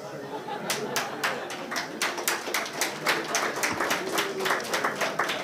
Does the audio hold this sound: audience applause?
yes